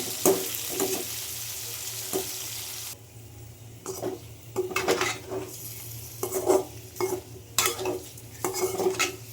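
Paneer gravy masala frying in a pan with turmeric, chili powder and salt, a low sizzle under repeated scraping and stirring strokes of a spoon against the pan, close and moderately loud.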